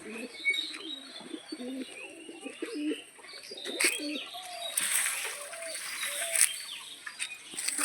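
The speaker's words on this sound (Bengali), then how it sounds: "দেখো দাদার বাড়ির পায়রা" Pigeons in a fancy pigeon loft, a series of low throaty coos close by at first, followed by softer chirps, rustling and fluttering sounds, with no talking.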